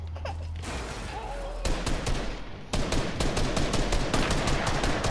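Gunfire in a video game, with a gold sniper rifle firing among repeated sharp cracks and rapid bursts. Loud, close shots spread through the stretch, with some talk in the background.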